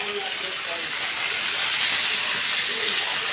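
Hot oil hisses and sizzles in a steady, broad wash of sound as more oil goes into a pan of frying chapila fish, close and continuous without pauses.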